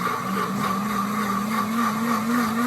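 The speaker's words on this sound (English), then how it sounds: "So you can see it's getting thick because it's sticking to the sides of the blender." A deluxe cooking blender runs steadily while blending dates into a thick date paste, its motor holding a continuous mid-pitched whine with a slowly rising tone, close and fairly loud throughout.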